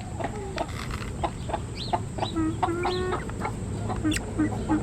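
A large chicken clucks repeatedly outdoors in a garden, its short calls rising clearly over a constant background hum and chirping, with a faint voice now and then.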